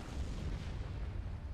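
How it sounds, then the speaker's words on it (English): Rumbling bombing-run explosions in the Star Wars Empire at War strategy game, a continuous heavy low boom of blasts rolling together at moderate loudness. "Oh, that was a crappy bombing run."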